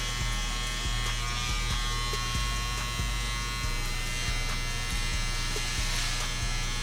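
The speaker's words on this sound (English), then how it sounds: "Use the back side of your trimmer blade when you're going up, lining in front of the ear." Electric hair trimmer lining up a beard at the jawline and in front of the ear in a barbershop, heard as a steady close buzzing hum with light rhythmic clicks as the blade moves.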